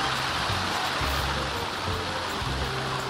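Rain falls in The Sims 4, a dense, steady hiss of drops with soft low rumbling underneath and no speech.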